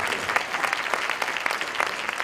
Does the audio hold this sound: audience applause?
yes